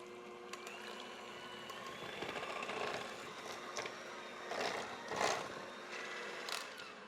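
Blueberry coffee cake batter of flour and eggs being mixed by hand in a bowl, a steady scraping and stirring texture with a few louder strokes near the end and no talking.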